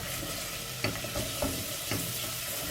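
Powdered fennel and carom seed dry-roasting in a pan, a soft steady hiss broken by three or four light scraping strokes of a spoon, close and without speech.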